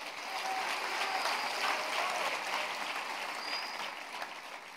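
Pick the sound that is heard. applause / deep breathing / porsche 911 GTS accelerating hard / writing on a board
applause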